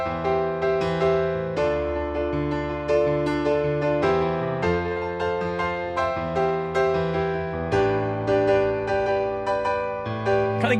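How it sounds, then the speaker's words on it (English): Piano arpeggiating chords, a right hand rolling broken chords over sustained bass notes in a steady flowing rhythm, played solo and clearly. "he's just decorating the chord sequence with arpeggiations of the chords."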